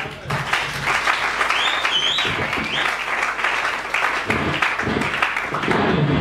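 A church congregation applauds at a sermon, with loud, dense, sustained clapping filling the hall, mixed with shouts and cheering voices throughout.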